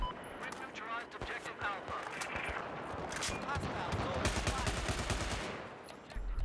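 AK-74M assault rifle fire in Battlefield 4, a fairly slow automatic weapon, heard as quiet repeated shots in short bursts beneath someone talking steadily over the top.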